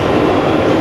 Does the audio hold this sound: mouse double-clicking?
no